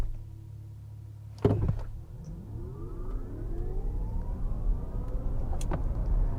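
A 2023 Audi e-tron Chronos electric SUV launches from a standstill after brake torquing, a sharp clunk followed by a rising electric motor whine that climbs steadily in pitch as the vehicle accelerates to 60 mph, with growing road and wind noise.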